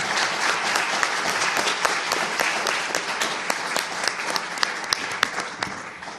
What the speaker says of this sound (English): I think they deserve a large applause from the audience.